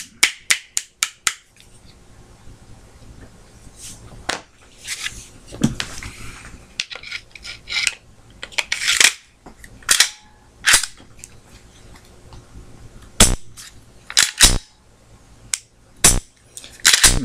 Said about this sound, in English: See, it still has that snappy, audible Glock trigger reset